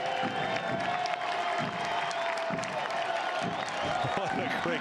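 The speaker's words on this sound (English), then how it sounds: "He's getting a standing ovation from the crowd, which is well-deserved" Stadium crowd at a Portland Timbers 2 versus Las Vegas Lights FC soccer match applauding a goal with a standing ovation, steady dense clapping and cheering filling the whole stretch, loud and continuous.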